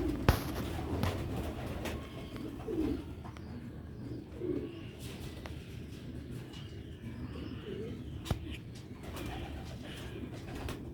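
Sialkoti pigeons cooing in short low repeated calls, fairly faint, with occasional sharp knocks and a quiet background.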